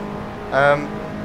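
A race car engine in the Assetto Corsa video game over-revs on a downshift from fourth to third, a brief sharp rising whine that flares and fades over a steady engine drone.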